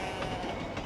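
A steady rumbling roar of a train rolling along the tracks, continuous and fairly close, with no voices.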